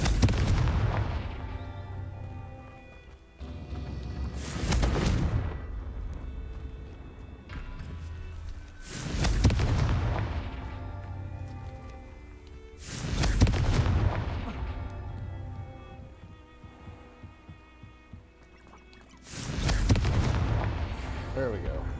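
Confringo fire spells blast in Hogwarts Legacy, five heavy booming explosions a few seconds apart, each a loud sudden hit with a long rumbling tail and a tonal game-music bed underneath.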